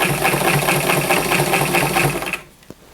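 A high shank sewing machine stitches steadily and loudly through a seam with a rapid mechanical rhythm, then stops abruptly near the end, leaving quiet with a faint click or two.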